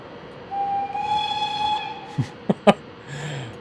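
A passing train in the Train Simulator video game sounds a long, steady steam-style whistle tone over a hissing rumble, followed by a few sharp clanks and knocks as it goes by.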